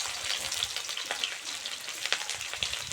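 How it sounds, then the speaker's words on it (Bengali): Chopped onions fry in hot mustard oil with a close, crackling sizzle and occasional sharp pops and stirring scrapes. "তেল গরম হয়ে গেছে, তেলের মধ্যে দিয়ে দিচ্ছি আমি কুচানো পেঁয়াজ।"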